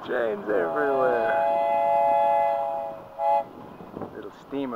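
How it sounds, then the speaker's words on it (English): A small live steam locomotive on a club's ridable miniature railway sounds a long steady whistle while climbing a grade, the tone held for over two seconds, followed by short bursts of engine sound in an outdoor setting. "Little steamer battling his way up to Summit."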